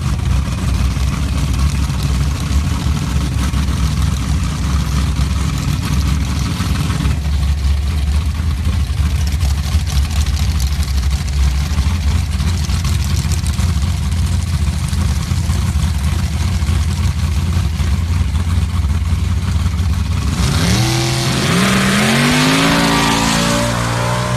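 Pro Charge Chevy pickup and another truck on a sand drag strip, engines roaring loudly and continuously, with a sharp shift in tone near the end as the trucks launch and pull away at high revs.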